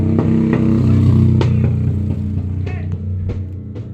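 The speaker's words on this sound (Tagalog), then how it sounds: "Ingay ng motorsiklo, oh." A motorcycle passes close by a house with its engine loud and rattling, the noise building and then easing off, along with scattered clattering knocks. No one speaks.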